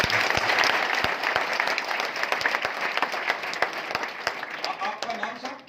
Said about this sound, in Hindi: मेरे ख्याल से जोरदार तालियां